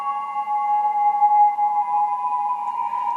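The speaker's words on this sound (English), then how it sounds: "And then for that synth sound, which sounds like this" A soft, angelic synth pad in FL Studio, made for a mix, holds steady sustained tones for about three seconds at an even, moderate level, alone with no talking.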